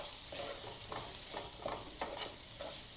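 Onion and tomato sautéing in a pan, a low sizzle under rhythmic scraping strokes of a spatula, about six stirs in three seconds, close and alone.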